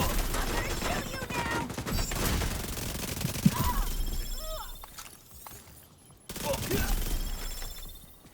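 Video game gunfire crackles in rapid bursts and volleys over several seconds, falls briefly quiet, then resumes, with game voices and effects mixed in.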